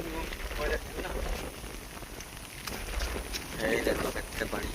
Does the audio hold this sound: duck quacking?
no